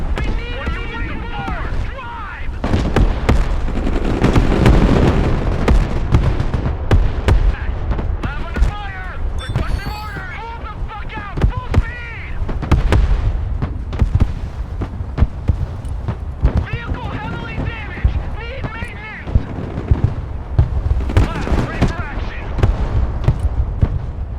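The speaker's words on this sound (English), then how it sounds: "Vehicle under heavy fire!" Heavy gunfire striking a vehicle in the video game Broken Arrow, a dense, loud barrage of rapid impacts and bursts running continuously, with radio voice chatter mixed over the battle.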